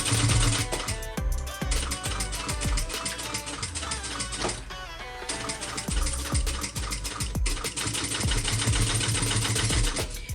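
A sewing machine stitches steadily along the seams of a cross bag with piping, running loud and close as a rapid continuous rattle with one brief pause midway.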